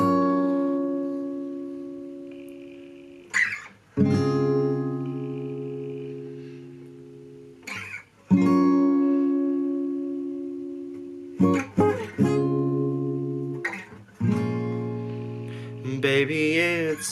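Electric guitar strums sustained chorus chords from a song, each chord ringing out for several seconds before the next is struck, clear and close with no talking over it.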